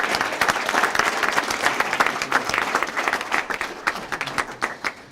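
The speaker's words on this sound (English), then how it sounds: "if you can just have another round of applause for everybody behind me" An audience at a summer youth employment press conference gives a round of applause, dense clapping that is loud at first and then thins into scattered individual claps near the end.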